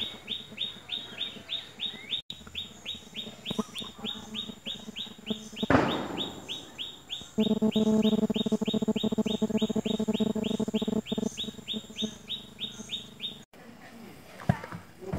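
Rooster crowing and hen clucking ring out loud and near among other bird calls and chirps in a rural village, with steady insect-like buzzing and a brief rustle partway through.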